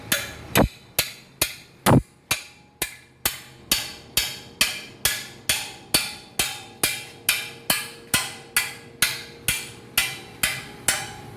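Steady metal hammer blows bend a steel axle housing bracket during reinforcement work, about two strikes per second, loud and close, each ringing briefly and continuing without talk.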